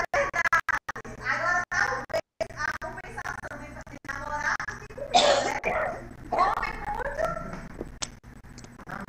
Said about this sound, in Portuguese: É porque eu tô tossindo muito